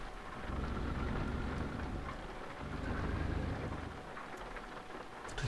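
Steady rain in a truck driving game set in Switzerland, a continuous dense hiss with a low rumbling bed, even and unbroken, with no voices.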